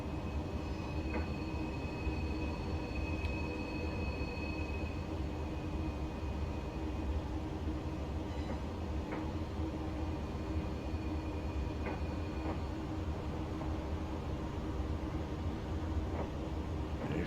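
Class 370 APT-P tilting train running on the main line out of Carlisle in Train Simulator Classic, a steady low rumbling drone of wheels and motors with faint high whines and occasional clicks, continuous and unvarying throughout.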